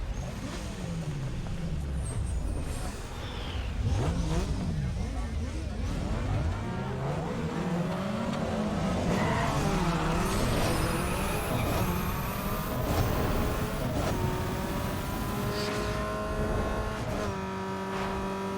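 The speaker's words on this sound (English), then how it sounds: "let's quickly go and do a drag race" A Nissan Sentra 2.5L I4 drag races in Need For Speed Underground 2, its engine revving and climbing through repeated upshifts with rising, falling whines. The engine stays loud and continuous, with occasional speech over it.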